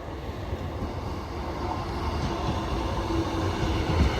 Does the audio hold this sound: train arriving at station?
yes